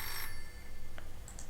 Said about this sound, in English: A phone call! Yeah, we'll answer it.